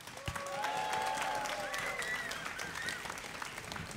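Tournament crowd at a DreamHack StarCraft match applauding and cheering for a player, a steady wash of clapping and shouts with some faint voice mixed in.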